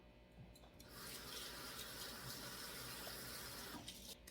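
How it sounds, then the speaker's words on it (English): Tap running steadily into a kitchen sink while hands are washed, a close, continuous splashing rush lasting a few seconds. "Wash my hands again because I touched my mouth."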